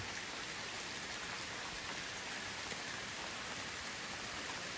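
Dense, steady rain falling outside a cave, a constant even hiss of drops heard up close with no other sounds.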